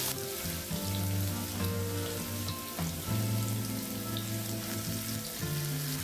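Mustard seeds, cumin, chopped onion and asafoetida sizzle steadily in hot oil, a continuous close frying hiss with tonal kitchen hum beneath it, no voices.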